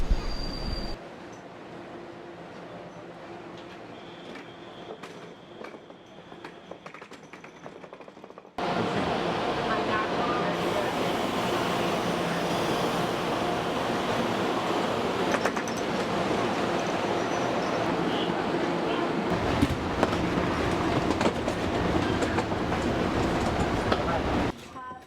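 A Taiwan Railway train runs from Taipei to Yulin on the east coast, first a quiet cabin hum, then a louder steady rush of wheels and rail noise with faint clatter that continues to the end.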